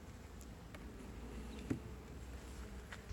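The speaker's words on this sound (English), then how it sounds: "I want you to see how docile these bees are now." Honeybees buzzing around an open, recently re-queened hive, a soft continuous hum with a few brief louder passes nearby, quiet overall with no talk.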